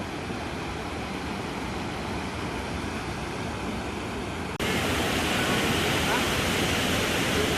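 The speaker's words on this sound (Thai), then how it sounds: "น้ำตก" Steady roaring rush of a waterfall, broadband and constant, growing louder partway through as if moving closer to the falling water.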